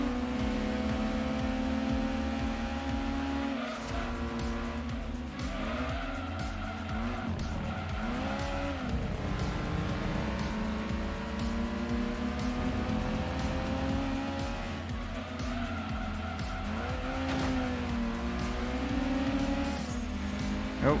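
Race cars in the PlayStation racing game Gran Turismo 2 roar continuously, engines revving up and down with recurring tire squeals as cars slide through corners.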